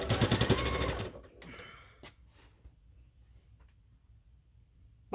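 A sewing machine stitches binding onto a spring table runner in a rapid mechanical whir that lasts about a second. After it stops, a few faint clicks and handling sounds follow in near quiet.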